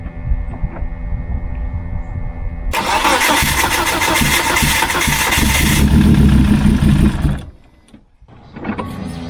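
Volvo 950 engine starting for the first time after fuel injector work: a low idle hum, then a loud cranking catch into a roaring run that holds, dips abruptly near the end and picks back up.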